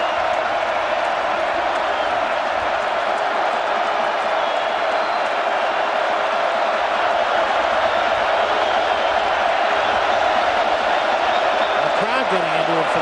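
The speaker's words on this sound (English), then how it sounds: "The crowd getting into it for the first time." Football stadium crowd at a 2006 Washington Huskies versus Cal Golden Bears game, a sustained roar of cheering that swells slightly louder toward the end, under steady play-by-play commentary.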